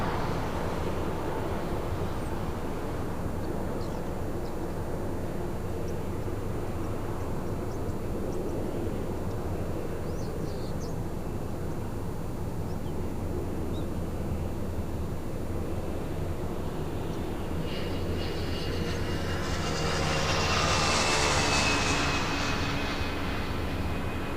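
A Delta Airbus A321 jet departs LAX as a steady, broad engine roar with wind-like rushing, building slightly louder toward the end.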